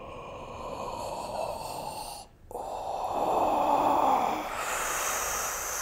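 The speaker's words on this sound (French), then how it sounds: "Avec l'inspire et l'expire." Slow, deep breathing in and out during a guided meditation, close and steady with a long inhale and a long exhale and a brief pause between them, with no talking.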